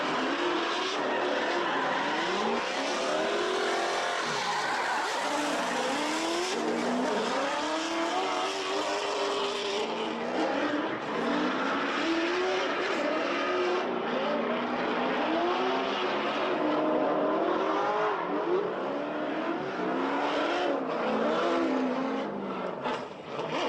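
A drift car on a lead run in a TopDrift competition roars continuously, its engine pitch swooping up and down in repeated revving waves as it slides, loud and sustained from a moderate distance with no voices.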